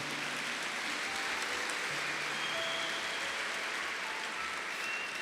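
Audience in a Portuguese-language church sermon applauding steadily throughout, a dense, continuous wash of clapping from many hands with no speech over it.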